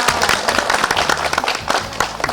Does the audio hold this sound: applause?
yes